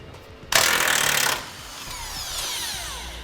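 A power tool spins off a 21mm bolt under the frame rail of a 2018 Chevrolet truck, a close, loud broadband burst lasting under a second, followed by quieter whirring and rattling.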